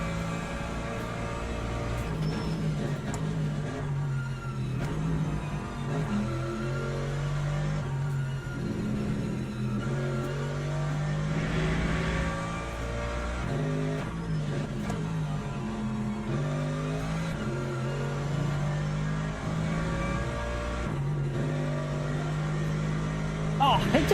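Race car engine in the Le Mans Ultimate racing game drives on steadily through the whole run, a sustained loud drone with shifting pitch as it accelerates and shifts, heard alone without talk.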